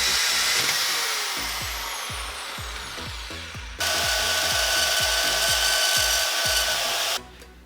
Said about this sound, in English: So let's go drill out some things and see how it goes.